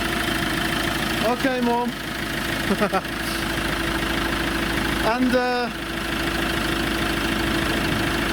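An Iveco Daily fridge van's diesel engine idles in a steady, close, even hum throughout, with brief bits of talk over it.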